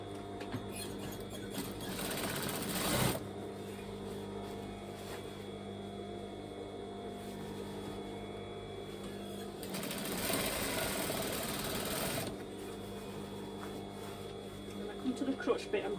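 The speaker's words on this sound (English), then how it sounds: "I'm simply going to stitch down this seam." Sewing machine running in two steady bursts as it stitches a trouser crotch seam on rockabilly trousers, a close mechanical whir with quieter pauses between and background hum.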